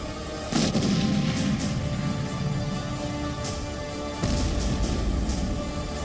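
Artillery and tank shelling in Kyiv, heavy booms and a continuous rumbling roar with two strong blasts, loud and reverberant without speech.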